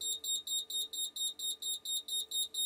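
An Apollo Discovery optical smoke detector sounds its alarm under test, a loud, close, rapid pulsing tone repeating about four times per second without pause, with no talk over it.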